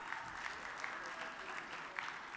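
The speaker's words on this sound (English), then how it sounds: "we can clap for the prompter guy." Audience applause fills a banquet room at a plenary luncheon of an annual meeting, a steady wash of many hands clapping with a few sharper claps standing out, continuous and moderately distant.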